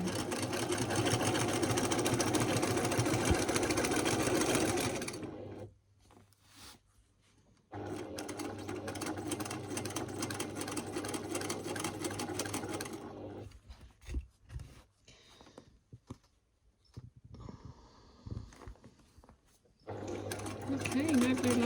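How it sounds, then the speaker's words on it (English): Free-motion quilting on a sewing machine, stitching feather flowers and crosshatching lines, comes as long steady runs of rapid needle hum broken by brief stops and some rustling of fabric. "You'll just guide the machine, the needle, into that previous line of stitching."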